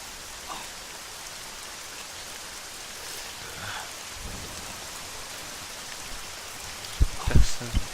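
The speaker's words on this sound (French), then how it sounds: "elle fait chier cette pluie, elle me casse les oreilles" Continuous rain hisses across the scene in the video game Arma 3 at a steady, moderate level, with a few louder thumps near the end.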